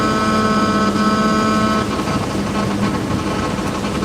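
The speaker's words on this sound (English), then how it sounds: "Oh, sorry, that's the engine." Thames Clipper river boat engine droning steadily with a low hum and tonal whine, close and continuous throughout, easing slightly partway through.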